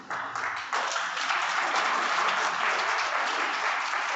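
Audience applause at a business meeting, a sustained, fairly loud roar of many hands clapping that swells slightly after the first second and continues evenly to the end.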